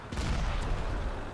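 Gunfire in the video game Ravenfield, a short burst of shots and booming reports that stays loud and dense over about a second.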